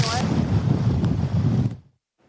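Strong wind gusting near a forest fire in Utah, a rough, steady roar of blustery air that fills the first couple of seconds and then cuts off abruptly into silence.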